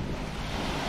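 Sea waves wash and surge steadily out on open water, mixed with gusting wind buffeting the microphone, loud and continuous with no voices.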